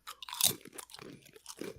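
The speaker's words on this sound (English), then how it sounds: "There's some crunch factor there. You heard that, right? There was a little bit of crunchability going on." Good Thins diet crackers are bitten and chewed close to the mic, giving a sharp crunch followed by several irregular, crisp crunching bursts with no talking.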